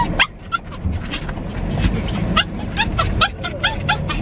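A dog in a moving car whines, yips and gives short barks again and again over a constant low road rumble, its high-pitched cries close and fairly loud.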